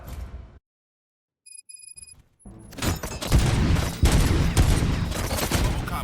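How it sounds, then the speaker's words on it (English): Heavy gunfire in the video game RoboCop: Rogue City breaks out after a near-silent pause with a few faint electronic tones, becoming a loud, dense fusillade of overlapping shots and booms that continues to the end. "Gunshots? What's going on?"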